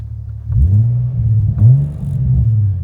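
Nissan 350Z HR with a new clutch, lighter flywheel and concentric slave cylinder pulling away, its engine rising in a loud low rumble through a couple of gear changes, heard close from inside the car.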